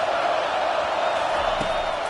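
Crowd noise swells in a college football video game as fans rally behind the defense on third down, a steady broad roar filling the whole stretch at even loudness with no distinct voices.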